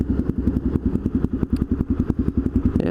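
A Suzuki DRZ400E single-cylinder dirt bike engine runs up close with loud, rapid, evenly spaced thumping pulses and a clattery mechanical edge, steady throughout.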